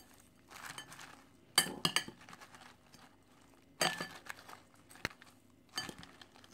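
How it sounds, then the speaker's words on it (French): Vegan salad gets tossed in a bowl, with short bursts of clinking and light tapping from utensils against the dish separated by near silence, fairly quiet and close, with no talk. "Donc je vais mélanger."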